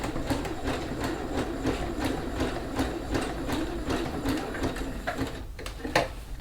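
A sewing machine runs a zigzag stitch on a zipper bag, its needle chattering in a fast, steady rhythm for several seconds before slowing and stopping with a few clicks.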